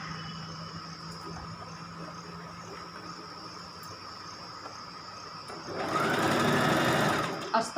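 A sewing machine stitches a blouse lining, a steady faint whirring hum for several seconds, then louder fast running stitching near the end, close and alone.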